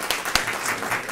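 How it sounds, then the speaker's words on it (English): An audience claps for a senator at a public event, a short burst of dense applause with a couple of sharper claps standing out, fairly close. "Give a round of applause for the Senator"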